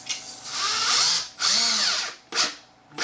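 A power drill whirs loudly in three bursts while driving a bolt into a DIY TV wall mount, with no talking over it.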